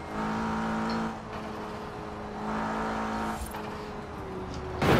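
A modified Opel Astra in Forza Horizon 4 hums along with a steady engine tone that dips and swells as the revs shift, ending in a sudden louder burst, with no talk.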